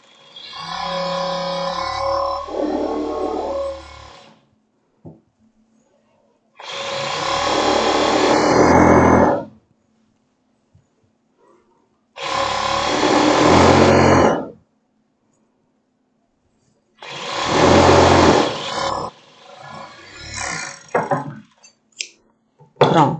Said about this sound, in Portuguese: Eu vou passar ele aqui na overlock.